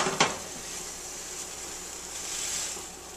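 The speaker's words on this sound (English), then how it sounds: "And again, it's sizzling, but it's okay because the heat is still going through." A grilled cheese sandwich sizzles in a frying pan, a continuous crackling hiss, with a brief clink of a utensil against the pan at the start.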